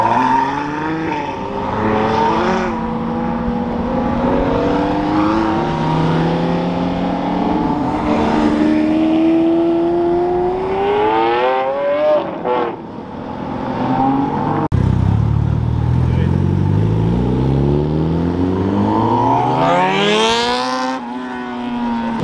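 Supercars, including a Lamborghini, accelerate hard away from a car meet, engines revving up through rising gear sweeps one after another, loud and close, with a final car screaming past near the end.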